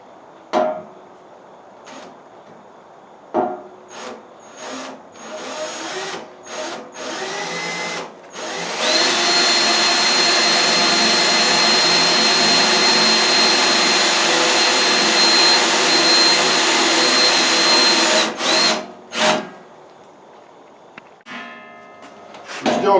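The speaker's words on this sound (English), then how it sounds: "Still drilling this hole" A power drill grinds steadily through diamond plate metal, with short bursts at first, then a long continuous whine before stopping and restarting briefly.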